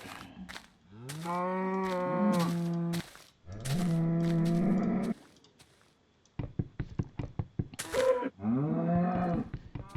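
Cows in a video game low in three long, loud moos with drawn-out pitch, separated by clattering knocks and thuds, with no speech over them.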